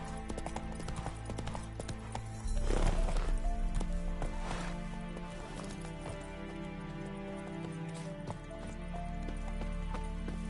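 Roach, the horse in The Witcher 3, galloping with rapid rhythmic hoofbeats over steady game ambience and music, the pounding growing louder a few seconds in and holding moderately close.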